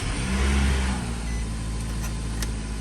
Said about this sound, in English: We'll go ahead, start the engine, and then turn the heater to max